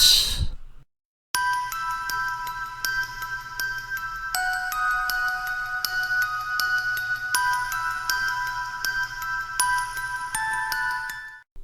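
A bright electronic chime plays a looping sequence of ringing tones, clear and loud, continuing for several seconds.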